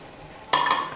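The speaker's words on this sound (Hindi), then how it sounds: "अब इसमें मैं पानी शामिल करूँगी। ये मेरे पास 3 गिलास के करीब पानी है" Water is poured into a pot of cooking beef in a kitchen, producing a sudden loud sizzling hiss that starts halfway through after a quiet lead-in and continues strongly to the end.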